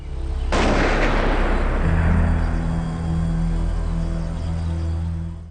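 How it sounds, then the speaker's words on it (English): A single loud gunshot cracks out sharply, then decays into a long booming, rumbling echo with a lingering low hum, heard alone without any talk. "they both heard the gunshot"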